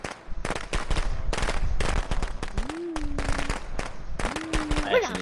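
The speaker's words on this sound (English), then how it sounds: "Okay, he threw firecrackers." Rapid crackling pops burst in dense clusters like firecrackers in a video game, loud and continuous, with voices talking over the noise.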